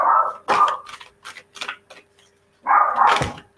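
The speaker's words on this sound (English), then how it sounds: "Sorry about the dog barking." A dog barks indoors, a few sharp barks at the start and one more after a pause, fairly close and loud, with quieter clatter between them.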